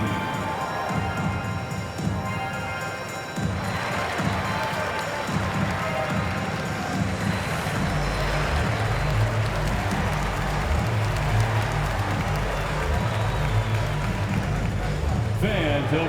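Arena fans applaud and cheer for the dance team during an NBA Finals game between the Seattle SuperSonics and Chicago Bulls, a steady wash of crowd noise and clapping under a booming announcer.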